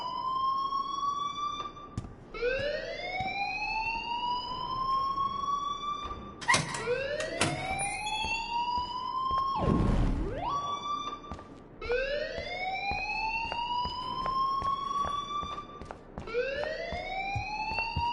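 A repeating rising electronic alarm wails in a video game, each upward sweep recurring every couple of seconds in a steady cycle, fairly loud with a brief burst of noise partway through.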